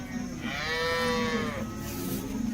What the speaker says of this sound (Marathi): तर मित्रांनो पाहू शकता ही अशी गाय आहे.